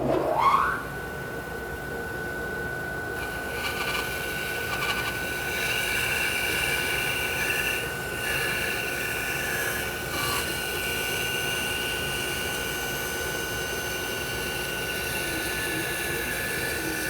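A nickel-coated bandsaw runs steadily through a stack of three wooden legs at once, a continuous loud whirring drone with a sustained tone, the cut holding an even level with small dips and no talking.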